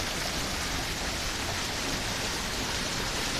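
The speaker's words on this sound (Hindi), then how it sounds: "ये देखें जी अल बहार की छत से कैसा पानी आ रहा है" Heavy rainwater pours off the roof of a building in Bur Dubai during a monsoon-like downpour, a dense, steady splashing rush that stays loud and unbroken throughout, with no voices.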